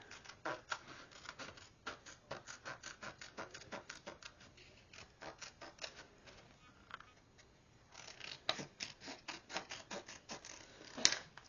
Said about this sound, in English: I take my Tim Holtz detail scissors, and then I just cut